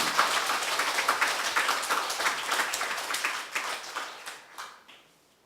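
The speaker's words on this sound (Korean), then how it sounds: "고맙습니다 하는 마음으로 박수 한번 우리 치도록 하겠습니다." A congregation claps together during a Sunday morning church service in a sanctuary, a full round of applause that gradually thins and fades to silence at the end.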